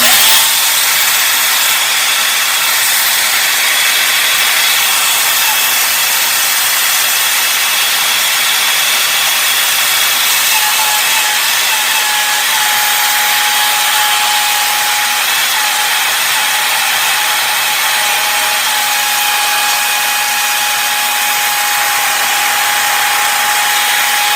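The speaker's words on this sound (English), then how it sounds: "you'll take and turn the drill back on and just let it run right around it, just like we sanded it down" A drill spins a palletwood ring against a paper towel coated with super glue, producing a continuous loud motor whine with steady high-pitched friction hiss and no talking.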